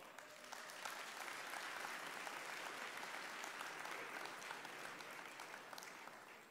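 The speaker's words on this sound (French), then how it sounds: "on vous applaudit bien fort" Sustained applause from an audience at a French retail industry conference opening plenary, a steady dense wash of many hands clapping with no talk over it.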